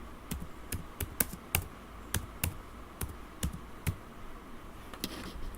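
Keystrokes on a computer keyboard while values are entered into a form, heard as irregular, moderately close clicks and taps scattered over several seconds with no talking.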